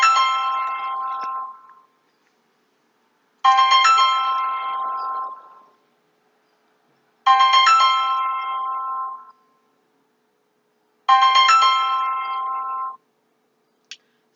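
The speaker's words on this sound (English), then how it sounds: "I'm so sorry about this phone ringing." A phone rings in four repeated electronic bursts, each about two seconds long, separated by silent gaps, clear and close with no voices.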